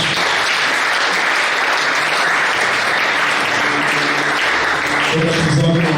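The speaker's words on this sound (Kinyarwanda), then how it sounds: "Reka dukorane Imana yacu amashyi menshi." A church congregation claps loudly and continuously for about six seconds, a dense, sustained wash of applause that fills the room.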